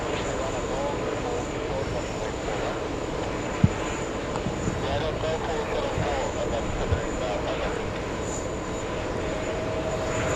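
A Caribbean Airlines plane, Flight 552 inbound from Kingston, Jamaica, roars steadily at JFK airport. The broad, continuous engine noise holds for the whole stretch, with faint voices in the background.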